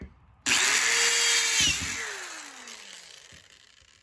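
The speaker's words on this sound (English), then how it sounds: "we're going to try to see about drilling a hole here" A power drill drilling a hole whirs up abruptly and loudly, runs steadily for about a second, then winds down with a falling pitch as the motor slows.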